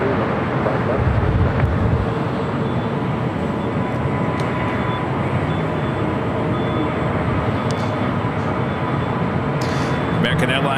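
An American Airlines Boeing 737-800 rolls down runway 25 right at LAX, a steady, broad roar of jet engines and rushing noise that continues throughout, with a voice talking over it.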